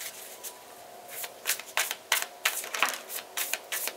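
Tarot cards being shuffled by hand, a series of quiet, close papery riffles and flicks in irregular bursts, growing busier toward the end, with no talk.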